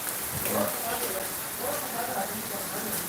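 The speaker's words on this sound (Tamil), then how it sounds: "ஆனால் திடீர்னு இப்போ மழை பெய்யுது" Sudden rain falling outdoors in Pollachi, a steady hiss of drops across the whole span at moderate level, with faint voices talking underneath.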